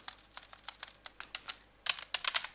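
Typing on a computer keyboard, a steady run of quick, light key clicks at close range that speed up and grow louder toward the end, with no voices.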